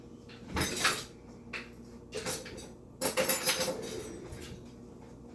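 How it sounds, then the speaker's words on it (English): Kitchen rummaging for a spoon, with several bursts of metallic cutlery rattling and clinking, a drawer or cupboard knock, close and moderately loud in a quiet room. "First, let me get a spoon."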